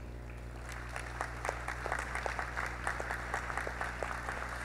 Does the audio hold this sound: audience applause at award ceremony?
yes